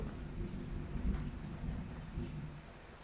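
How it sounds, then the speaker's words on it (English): Steady rain falls with a low, distant rumble of thunder during a London downpour, a soft continuous wash heard at low volume with no talking. "It's really raining right now and thundering."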